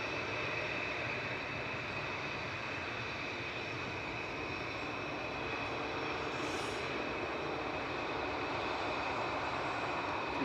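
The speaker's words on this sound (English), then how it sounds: "So we've got a Ryanair on Alpha in front of us." A Ryanair airliner taxiing on a taxiway at Manchester Airport, its engines giving a steady, continuous broadband roar at moderate distance, unchanging throughout with no voices.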